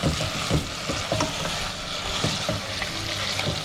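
Mutton with green chillies frying in a pot for an Eid zafrani pulao, a loud, dense, continuous sizzle close up, with occasional clanks and scrapes of a spoon stirring through it.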